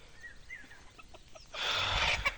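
Kadaknath chickens cluck in short, soft calls while foraging on a free-range farm. A broad, louder rustle or wind noise takes over in the second half.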